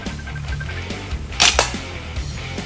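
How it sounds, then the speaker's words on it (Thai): A sharp metallic crack of a 5 mm steel ball fired from a crossbow striking an empty can, a single quick impact over steady outdoor background noise. "ยิงกระป๋องระเบิดแล้วก็ ยิงขวดนี่ก็ทะลุครับ"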